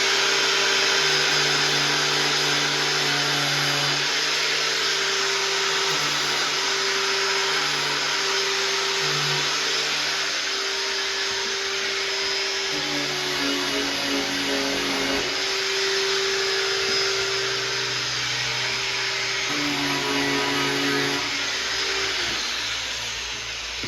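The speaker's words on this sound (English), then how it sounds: "I'll just use my little flat wheel here, and I'm going to hit a couple spots that are still shiny." A small flat sanding wheel on a power tool scuffs the painted body of a Chevy long bed pickup, giving a loud, continuous high whine whose pitch wavers as it presses against the panel.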